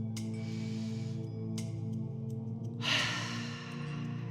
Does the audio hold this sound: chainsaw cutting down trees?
no